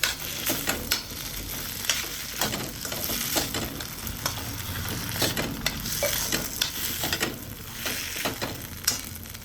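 Lemon rice stirred in a hot pan with a spoon, steady sizzling under irregular scraping and clinking strokes throughout, close and with no talk.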